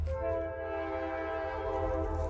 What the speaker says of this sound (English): There's literally a train that runs right through the park.